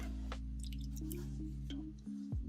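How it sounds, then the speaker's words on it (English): Bubbles rise in a chemical bath during a weapon restoration, giving soft, close drips and wet pops over a low steady hum. "Look at all those bubbles"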